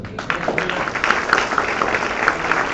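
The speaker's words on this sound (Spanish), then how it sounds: "Dale un aplauso al Señor" Church congregation applauding during a Spanish-language Christian Sunday service, a steady wash of many hands clapping that continues unbroken for the whole stretch.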